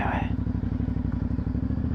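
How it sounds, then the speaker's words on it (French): An Aprilia Shiver 900 motorcycle brakes as its engine throbs in a low, fast, even pulse close by. A brief voice is heard at the start. "on va tester un peu l'efficacité du freinage"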